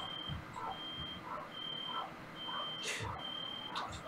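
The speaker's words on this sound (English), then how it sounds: "I got a smoke detector going off." A smoke detector alarm sounds in repeated steady high-pitched beeps at regular intervals, fairly faint, with some thumps and handling noise around it.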